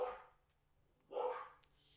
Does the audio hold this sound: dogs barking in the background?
yes